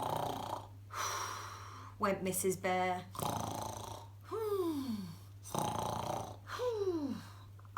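A storyteller's voice imitates snoring, giving several drawn-out rasping snores with falling, groaning tails, spaced in a slow rhythm and mixed with narration, over a low steady hum.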